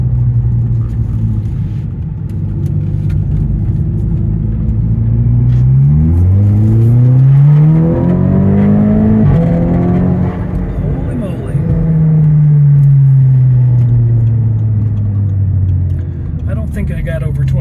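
A 2009 Audi TTS with performance upgrades accelerates hard through a turn, its engine revving up and pitching higher, dipping through a gear change, then climbing again in a loud, close, rumbling drone with a voice talking over it.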